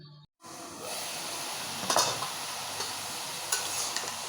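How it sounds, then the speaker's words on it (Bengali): Cauliflower and potato fry in a pan, a steady close hiss and sizzle running throughout with a few brief scraping stirs, after a short silent gap at the start. "শীতের সবজি ফুলকপি আলু দিয়ে ফুলকপি দিয়া ভাজি রান্না করতেছি"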